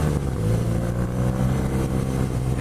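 A 2017 BMW R nineT Pure boxer-twin motorcycle engine runs steadily, a loud, low throbbing exhaust note with a constant rumble and no voices.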